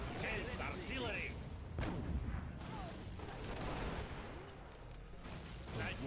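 Scorpion tank artillery fire in the strategy game C&C Generals Contra: repeated booming gunfire and explosions layered with game unit voice lines and mechanical battle noise throughout.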